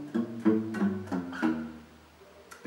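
Guitar riff from a song, played on the low sixth string with muted strings, a few quiet palm-muted notes stepping down in a short phrase before trailing off.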